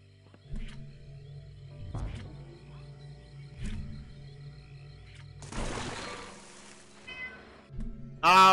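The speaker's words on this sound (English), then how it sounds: "He's just sitting at the foot of my door, meowing at me, because he wants attention." Cat in a video game meowing at a door for attention, with several short, distinct meows spaced a few seconds apart over quiet background game music, followed by a burst of louder game sound near the end.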